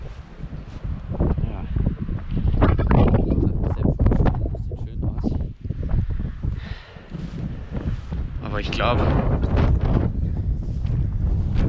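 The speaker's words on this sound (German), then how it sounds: "Hier pfeift nämlich der Wind." Strong gusting wind buffets the microphone outdoors during vineyard vine pruning, a loud low rumble that swells and drops throughout, with someone speaking over it.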